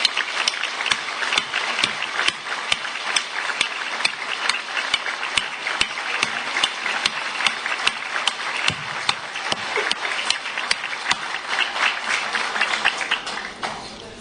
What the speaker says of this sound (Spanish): solicito a todos que demos un aplauso lo más sentido posible a todos los cuerpos de bomberos del país